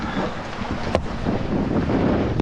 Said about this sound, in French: derrière il y a encore un petit grain qui arrive et du coup le fort vent qui va avec